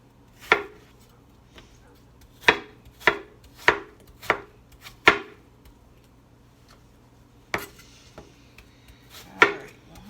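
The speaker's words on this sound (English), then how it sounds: "About dicing as opposed to trying to slice things fancy." Knife dicing apples on a cutting board for an apple walnut crepe topping: sharp, separate chops with a few quick pairs, then a pause and two more cuts, close up and with no talking.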